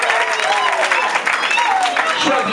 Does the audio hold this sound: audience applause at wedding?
yes